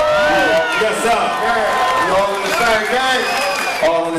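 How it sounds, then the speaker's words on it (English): A concert crowd at a live West Coast hip-hop show cheers, whoops and applauds in a dense, loud wash of many voices that keeps up without a break for a few seconds. "Give yourselves a round of applause if you don't mind."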